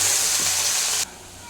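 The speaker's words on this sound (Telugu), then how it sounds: "ఇది కొంచెం గోల్డెన్ బ్రౌన్ వచ్చే వరకు వేయించుకుందాం." Onions frying in oil for upma give a loud, steady broadband sizzle close up, then cut off abruptly and drop much quieter for the last half second.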